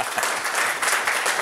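Steady, dense applause from a concert audience at a percussion show, filling the whole stretch at an even, close level with no talk over it.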